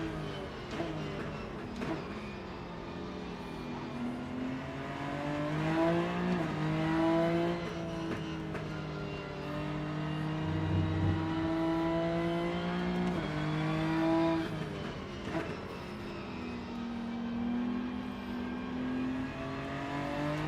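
A BMW M4 race car engine in the Rennsport racing game at the Nurburgring drones and revs steadily, pitch rising and falling through gear changes and corners, loud and continuous with no talk.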